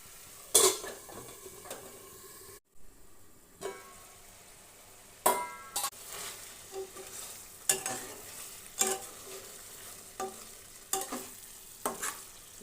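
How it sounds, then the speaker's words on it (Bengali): Chicken korma is stirred now and then in a covered pan over medium heat. A low simmering hiss runs under sharp, irregular clanks and scrapes of a spoon against the metal pan, with a short silent gap early on. "ঢাকনা খুলে মাঝে মাঝে ঘেঁটে দিয়েছি যেন কড়ার সাথে না লেগে যায়।"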